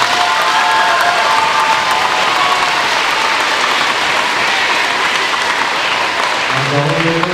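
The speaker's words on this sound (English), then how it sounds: "Congratulations, one more round of applause." Sustained, loud applause from a crowd at a middle school awards ceremony fills the room at a steady level throughout, with a faint voice starting to speak near the end.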